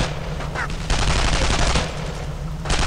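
Rapid, dense bursts of automatic and rifle gunfire from the World War II shooter Brothers in Arms: Road to Hill 30, loud and continuous over a rumbling in-game background.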